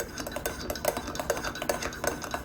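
A spoon clinks rhythmically against a cup while stirring golden milk mixed with sugar and cayenne pepper, producing quick, light, evenly spaced taps close by.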